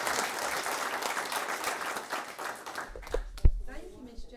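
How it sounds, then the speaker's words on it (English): Broad, sustained applause from an audience fills most of the clip, then tapers off into a few scattered claps and a thump near the end. "Please, a round of applause for Shirley Miller."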